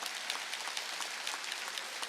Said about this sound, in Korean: 박수 한번 치라고